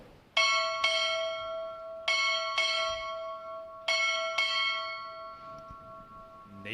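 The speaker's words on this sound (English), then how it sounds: "Time orderly, strike 6 bells." A ship's bell at a U.S. Navy boot camp graduation rings six clear, resonant strokes in three paired double-strikes, each ring lingering and decaying before the next pair.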